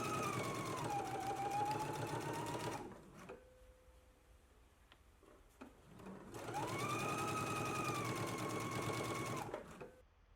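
Sewing machine understitching close to a seam on a garment facing, two steady runs of rapid mechanical stitching of about three seconds each, separated by a quieter pause with small handling clicks.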